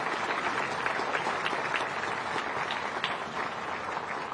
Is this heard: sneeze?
no